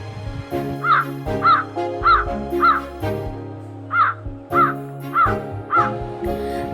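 A cartoon crow caws again and again in a short, evenly spaced series of harsh calls. A light musical backing plays underneath, and no one speaks.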